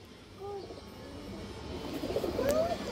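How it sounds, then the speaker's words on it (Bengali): Soft, intermittent cooing from a female pigeon among older pigeons kept on a farm, faint against low background noise, with a brief whistling tone near the end. "মাদি কবুতর দর্শক এটা।"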